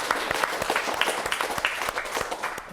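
Studio audience on an Italian local TV talk show applauding a guest, a sustained wash of many hands clapping with sharp individual claps standing out, steady and fairly close.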